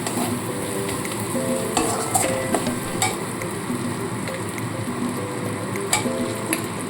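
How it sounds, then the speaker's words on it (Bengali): Chopped tomato tossed into a pan of frying potol (pointed gourd) and prawns, with loud, steady sizzling and repeated spatula stirring and scraping up close. "ভালো করে মিশিয়ে নিয়ে এর সাথে আমি কেটে রাখা টমেটোটা দিয়ে দেবো"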